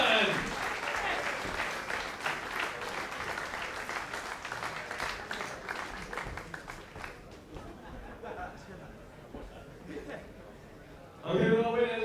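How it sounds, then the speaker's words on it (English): An audience at a jiu-jitsu event applauds the match winner with dense clapping, loud at first and fading over about ten seconds, with crowd chatter underneath before a voice cuts in at the end. "A big round of applause for your winner by armbar, Lee Simpson."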